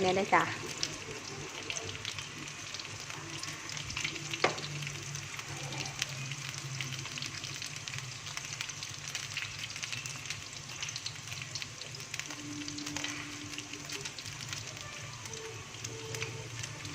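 Thai pork sausage (moo yor) fries steadily in hot oil with a continuous close sizzle and crackle, a few sharper pops breaking through, while a voice talks intermittently over it.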